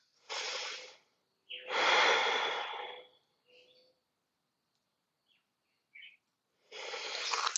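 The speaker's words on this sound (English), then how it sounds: "Two more full breaths." Deep, full breaths taken during a yoga flow class: two long, audible airy breaths close to the listener, then a short pause and a third breath starting, with near silence in between.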